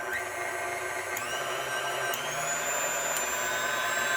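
A vintage Ultra Power stand mixer, an older machine freshly polished, runs steadily with a continuous close whirring motor hum and high whine, no talking over it.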